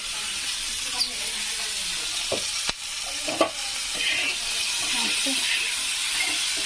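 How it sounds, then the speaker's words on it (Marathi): Green chillies roast with salt in a hot pan, giving a continuous loud sizzle and hiss, with a few sharp clinks and scrapes from stirring and no voice over the frying. "मस्त मिरच्या भाजायच्या"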